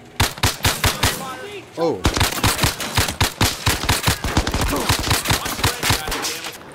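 Rapid bursts of automatic gunfire in the VR shooter game Zero Caliber, loud and close, rattling almost continuously with a brief pause, while a player exclaims once.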